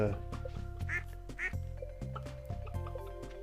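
Ducks in the Stardew Valley farming game give a few quick, bright quacks among steady game music, with a person speaking over them.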